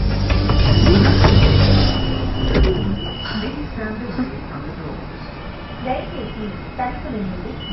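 Train noise at Begumpet station platform with rumbling, a door sliding and faint wheel squeal, while people talk nearby.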